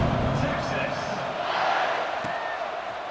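A stadium crowd murmurs in EA Sports College Football 26, a steady, fairly faint roar under the game's play-by-play commentary.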